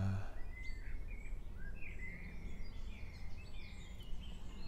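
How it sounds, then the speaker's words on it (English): Birds chirp and sing in short, scattered phrases over a steady low drone, with a chainsaw running somewhere in the distance. "And there's birdsong and chainsaw,"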